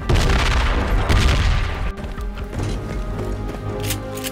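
In Battlefield 2 Project Reality, a frag grenade explosion booms loudly and close, followed by rumbling debris and a sharp crack, with further dull thuds fading away, no talk over it.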